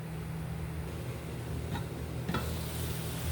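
Spices for a Bengali hilsa fish and stem curry cook under a lid in a covered pan, giving a steady soft sizzle with a low hum beneath and a couple of faint clinks near the end.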